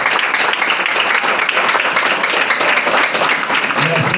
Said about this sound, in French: Je vous demande d'applaudir chaudement le directeur fondateur de l'Extrastaff.